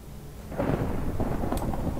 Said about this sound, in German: Besser gesagt, es gewittert.